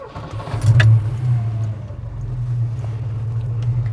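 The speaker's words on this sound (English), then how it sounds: "we're here for the important business of starting the engine" A modified Volvo 240 with a 2.3 litre red block engine and a slightly loud exhaust cranks and fires up. It then settles into a steady, deep idle rumble, close by and without talk.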